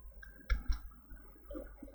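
A computer keyboard is tapped while HTML code is entered, two sharp close clicks followed by softer, fainter keystrokes in a quiet room.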